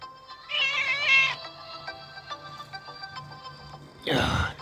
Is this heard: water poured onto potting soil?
no